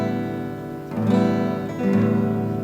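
Acoustic guitar in standard E tuning with no capo, strummed chords ringing out, two strums roughly a second apart, each sustaining and decaying, close and clear with no talking.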